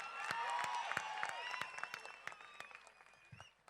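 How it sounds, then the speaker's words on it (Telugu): An audience claps in sharp, scattered bursts that thin out toward the end, with faint cheering or whistle-like tones mixed in. "హృదయపూర్వకంగా గట్టిగా చప్పట్లతో 2 చేతులు ఉన్నోళ్ళు 2 చేతులతో గట్టి కొట్టాలి"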